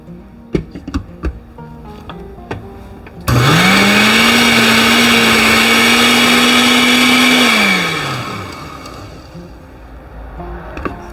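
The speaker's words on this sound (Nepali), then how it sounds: "त्यसपछि फेरि ब्लेन्ड गरौँ।" A kitchen mixer blender whirs loudly as it purées chopped mango with a quarter spoon of salt for kulfi, starting abruptly, holding a steady high whine for about four seconds, then winding down; faint clicks and handling noises come before.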